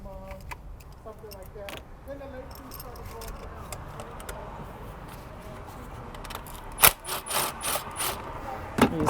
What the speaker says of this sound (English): So remove those bolts